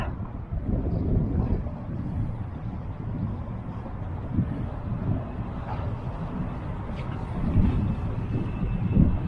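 Steady low wind buffeting the microphone outdoors on the coast at Izmir while spin fishing, a continuous rumbling gust with no speech.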